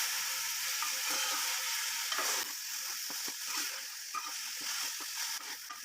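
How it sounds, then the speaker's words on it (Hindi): Tomatoes and spices fry for keema, a steady close-up sizzle with occasional stirring scrapes and small splattering bursts, no voices. "इसको मिक्स करेंगे और इनकी हम अच्छी तरीके से भुनाई करेंगे"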